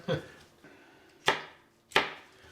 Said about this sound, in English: for the peppers, we're just going to slice into long strips